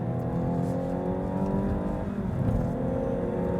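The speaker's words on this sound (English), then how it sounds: "it's got a nice little purr to the engine as well" A Mazda CX-60 engine idles and hums steadily with a low, smooth purr, holding close and even throughout with no talking.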